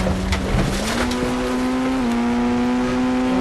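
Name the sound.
car engine while shifting into reverse gear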